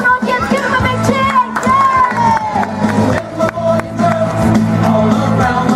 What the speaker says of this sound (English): Come on, audience, give them a big cheer.